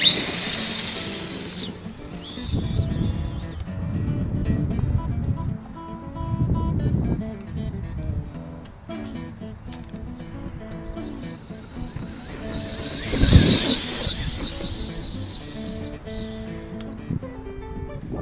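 An RC car with a slipper clutch runs on big tires in dirt, high whining screams in bursts at the start and again later, between rougher motor and dirt-churning rumbles.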